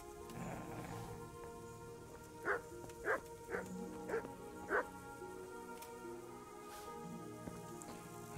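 A dog barks in the video game Kingdom Come: Deliverance, five evenly spaced barks at moderate distance over a steady ambient bed with faint rain-like texture, and a brief spoken word.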